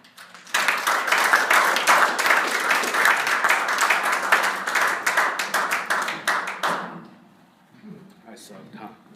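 An audience bursts into loud, sustained applause for several seconds, dense clapping that thins out and fades near the end.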